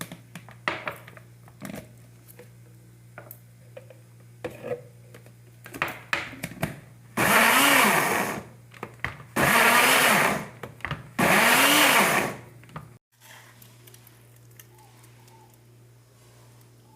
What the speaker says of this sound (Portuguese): eu vou bater a macaxeira em 2 vezes, porque o liquidificador é pequeno